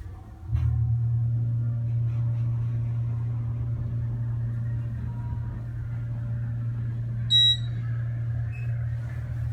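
A new Otis hydraulic elevator at the Union Station food court in Toronto runs with a steady low hum and rumble throughout, joined briefly near the end by a short electronic chime.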